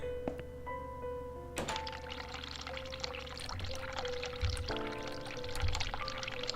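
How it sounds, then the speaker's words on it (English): Hot water runs from a sink tap in a steady pour, with clunks and thuds around it and a faint tonal hum in the room, moderately quiet throughout. "I'm going to turn on the hot water."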